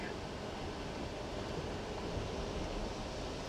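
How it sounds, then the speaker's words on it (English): Strong wind gusting by a lake at Sackett's Harbor, New York, as a faint, steady broadband rush with possible surf beneath, no voices. "Boy, the wind is blowing hard."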